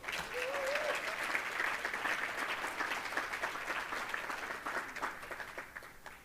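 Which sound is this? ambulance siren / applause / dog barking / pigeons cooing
applause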